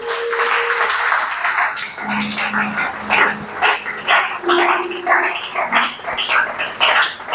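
A church congregation at a worship service acclaiming the Lord, with loud bursts of cheering voices and clapping that rise and fall in waves, close and lively.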